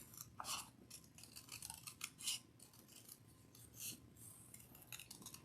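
Scissors snip through paper while a polar bear shape is cut out, a steady run of close, crisp cuts and rustles that continues for several seconds with no talking.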